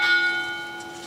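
A ship's bell rings at a naval retirement ceremony. One bright strike lingers and slowly fades in a sustained metallic hum, with no voices over it.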